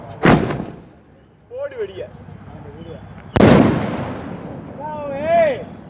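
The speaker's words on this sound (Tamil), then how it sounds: "இதை பாருங்கள் வெடித்து காட்டுறோம்" Firecrackers set off one after another during a demonstration at a fireworks shop, with sharp loud bursts at the start and again midway followed by crackling, and voices talking between the blasts.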